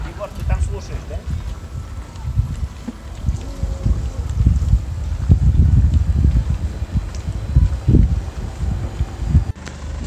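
Wind blows across a yacht at sea on a passage from Santa Ponsa bay to Soller, giving a continuous low rumble and buffeting of gusts against the microphone, with faint voices underneath.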